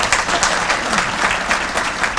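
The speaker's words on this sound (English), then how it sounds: "I think first we should give a big round of applause to Vice Mayor Peggy Lemons" A crowd at a State of the City luncheon applauding Vice Mayor Peggy Lemons, dense, sustained clapping from many hands, loud and close throughout.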